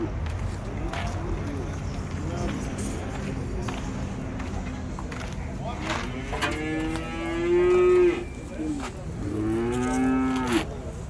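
Cattle at the Vaniyambadi cattle market let out two drawn-out moos near the end, heard close over a steady bustle of crowd noise and footsteps.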